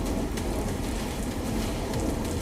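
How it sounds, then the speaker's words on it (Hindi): Heavy rain pouring down during a downpour in Ambala, Haryana, a dense, loud, unbroken hiss of water striking surfaces that fills the whole moment without a break. "हरियाणा के अंबाला में भी बारिश रुकने का नाम नहीं ले रही"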